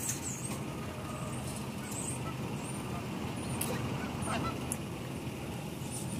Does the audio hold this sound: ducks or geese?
yes